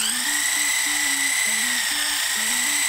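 An electric callus grinder with a built-in vacuum whines steadily at high pitch while smoothing calluses on a bowler's hand, with a low, wavering hum beneath that rises and falls as the tool is moved; no talking.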